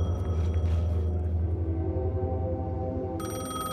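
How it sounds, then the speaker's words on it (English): A payphone rings in the Alan Wake 2 video game, a steady electronic telephone ring over a low droning in-game ambience, continuous and fairly loud throughout. "Payphone is most definitely ringing."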